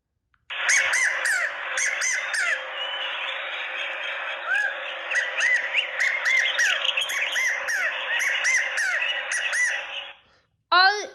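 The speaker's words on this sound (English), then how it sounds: "Q is for quail." A quail gives a long run of rapid chirps and squawky warbling calls, loud and continuous for about ten seconds, and a brief sharp call closes the sequence; no talking.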